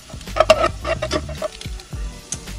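Sayote and shrimp being stirred in a hot pan, with sizzling frying and a run of scraping, clattering utensil strokes that settle into quieter sizzle, close and fairly loud.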